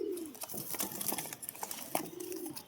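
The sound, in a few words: pigeon cooing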